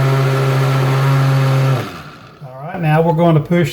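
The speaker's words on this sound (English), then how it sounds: "Now we're going to push the key for liquefy and liquefy it." A blender liquefies tomatoes for home-canned sauce, a loud steady motor whine that lasts about two seconds and then cuts off, followed by a voice speaking.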